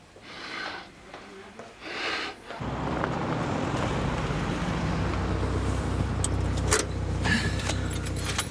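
A small car drives along with a steady low road rumble and engine hum, picking up partway through after a quieter start with a few brief clicks and rattles from inside the cabin.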